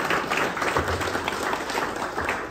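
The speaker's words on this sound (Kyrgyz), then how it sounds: "Кыргыз болуп калганыбыз үчүн бир кол чаап койгойлу кандай." An audience claps in a steady, dense wash that keeps going without a break, fairly loud and close.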